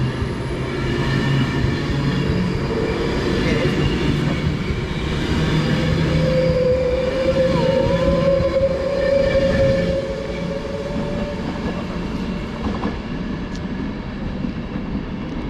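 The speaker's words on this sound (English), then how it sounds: "So there goes a Avanti West Coast, sparking quite nicely, heading over on the pantograph, heading over to London Euston." An Avanti West Coast Pendolino electric train passes with a steady rolling rumble and wheel noise, a faint sustained squeal and tonal whine rising midway before the sound slowly eases.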